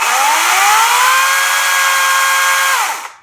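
A 40V cordless electric chainsaw runs at a steady high whine for about three seconds, then winds down and stops abruptly.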